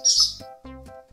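A swallow's call: a few short, clear chirps in quick succession, close and distinct with brief gaps between them.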